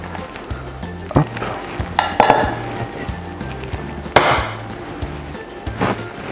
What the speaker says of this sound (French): Pendant ce temps-là, je mélange mon sucre et mes jaunes d'œufs ensemble